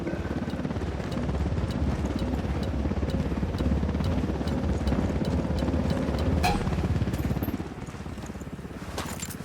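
A helicopter in the Ghost Recon Wildlands video game thumps with a steady, fast rotor chop over loud engine noise, then drops somewhat quieter near the end, with no talk over it.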